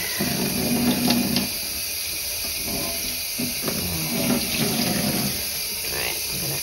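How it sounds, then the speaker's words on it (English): Running water rinsing an ice-dyed cotton hat at a sink, a steady hissing tap stream with soft splashes as the fabric is handled. "hopefully that's just the water rinsing off"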